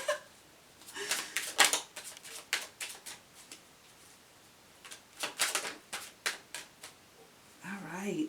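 A deck of cards is shuffled in repeated quick riffling bursts, close and crisp, with short pauses between runs and a brief voice near the end.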